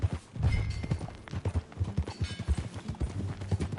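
Horse hooves clip-clopping as a rider moves along in the Red Dead Redemption 2 video game, a steady rhythmic trot of fairly close, soft thuds continuing throughout.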